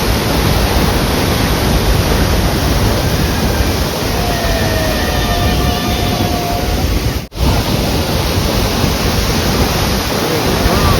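Athirappilly waterfall roars close by as a dense, loud, unbroken rush of water that fills the whole clip, with a brief dropout partway through and no speech.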